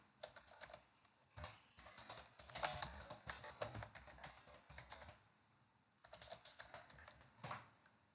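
Keys clatter on a computer keyboard in quick, irregular bursts of faint clicks with short pauses between runs, close by and quiet, with no voice over them.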